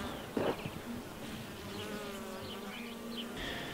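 Honey bees buzz around a hive, several close insects droning and whining at shifting pitches over a steady outdoor hum, with a brief louder thump near the start.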